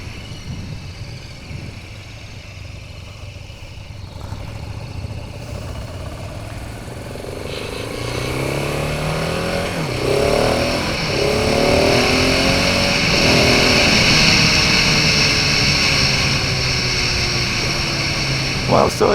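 A KTM 690 Enduro R motorcycle pulls away, its engine note rising through gears in a steady drone under wind noise, growing louder as it gathers speed while a rider talks.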